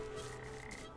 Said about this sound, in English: there's frogs all over the place